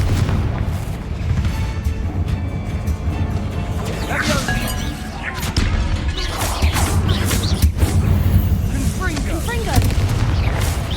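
Confringo fire spells exploding in the video game Hogwarts Legacy, loud repeated booms and crashing impacts over a constant rumbling game ambience, with voices speaking at times.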